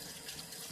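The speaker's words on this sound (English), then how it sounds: "let me just rinse off my hands." Water from a tap runs in a brief soft steady hiss as hands are rinsed in a kitchen during bread and butter making.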